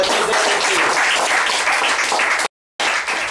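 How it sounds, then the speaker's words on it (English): Loud applause from the audience at a 2013 CSEC graduation ceremony, thick close clapping that cuts out abruptly in a brief gap of silence before resuming. "Another round of applause."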